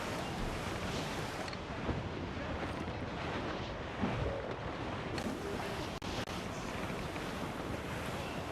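Rough seas under dark skies in the Assassin's Creed IV video game, with steady crashing waves and gusting wind buffeting a sailing ship, a continuous loud wash of surf and roaring air.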